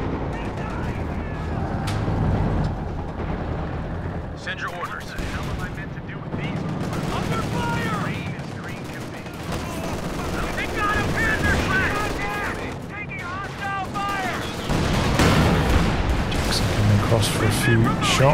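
Battle sounds from Company of Heroes 2, a World War II strategy game, roll on throughout with scattered gunshots and explosions, under a commentator's steady talk.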